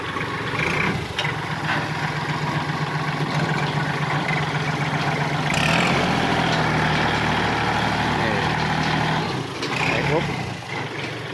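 A Kubota L3608 tractor engine idles in a steady, continuous low rumble throughout, with voices talking over it.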